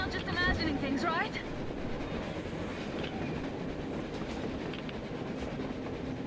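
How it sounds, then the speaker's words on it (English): A train rumbles past on the surface in the video game Metro Exodus, a loud, steady low roar of rolling wagons with faint clickety-clack, while a voice briefly speaks at the start. "A train! A damn train on the surface!"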